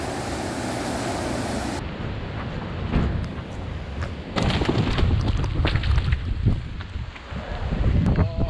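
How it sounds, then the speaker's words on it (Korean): Rough sea surging outside a harbor breakwater on Ulleungdo island as a typhoon approaches, a broad roar of waves and wind buffeting the microphone, swelling louder in the second half. "방파제 바깥쪽은 파도가 점점 많이 높아지고 있네"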